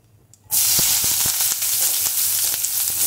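Onions dropped into hot oil seasoned with cardamom, cinnamon and cloves for chicken curry burst into a loud, steady close sizzle after a quiet start, with faint stirring clicks.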